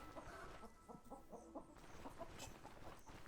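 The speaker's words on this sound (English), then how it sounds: "Chickens." Chickens cluck in the video game Stoneshard, a quiet cluster of short repeated clucks and squawks from farm fowl, with no speech.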